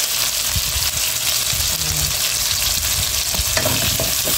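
Pinakbet ingredients sautéing in a hot pan with fried fish, a steady loud sizzle and crackle throughout, with occasional stirring scrapes and clinks.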